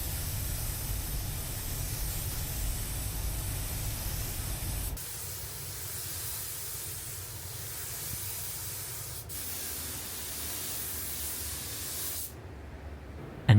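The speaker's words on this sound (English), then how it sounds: "Once this had dried, Wayne added 2 full coats of lacquer to give it the protection needed and really enhance the gloss shine effect." A spray gun applies lacquer coats to the black roof of a Land Rover Defender inside a paint booth. The hiss is steady and continuous, broken by a couple of brief shifts as the trigger is released and pressed again, then it cuts off near the end.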